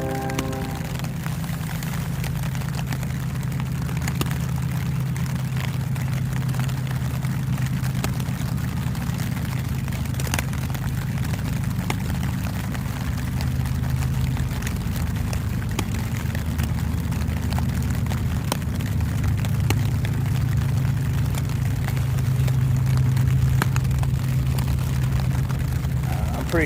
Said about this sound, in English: we had a train passing in the background